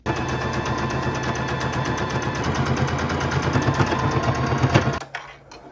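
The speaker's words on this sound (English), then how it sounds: "I'm gonna keep my stitch length between a 3 and a 2, and we're gonna be doing a straight stitch" A sewing machine runs a continuous straight stitch through stretchy fabric, set to low tension and a stitch length between 2 and 3. Its rapid, even needle clatter is loud and close and stops abruptly near the end.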